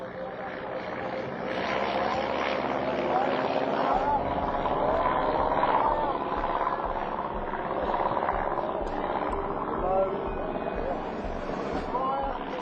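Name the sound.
vintage airplane flying overhead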